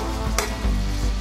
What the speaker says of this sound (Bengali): এখানে আমি চিংড়ি মাছগুলো ভেজে নিচ্ছি সর্ষের তেলে।